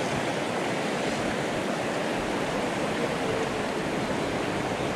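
A river flows through the Leitzaran valley, making a steady, broad rush of water without a break, close and full, with no voices over it.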